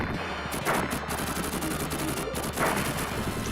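Rapid, dense gunfire crackles nonstop in a retro arcade shooting game, with overlapping bursts and occasional louder blasts against busy game noise.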